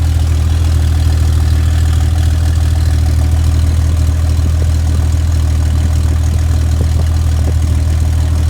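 A 1999 Jeep Wrangler idles with a deep, steady low rumble from the exhaust, constant and loud throughout, no voices.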